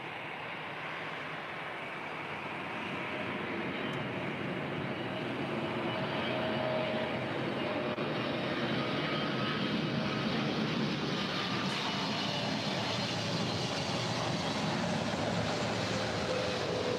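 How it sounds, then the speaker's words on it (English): A China Airlines Boeing 777-300ER jet lands at LAX, its engines a steady, faint, broadband roar heard from a distance throughout, with no voices. "China Airlines Flight 10 coming in from Taipei. Flight time is 11 hours and 11 minutes. This is a 7-year-old Boeing"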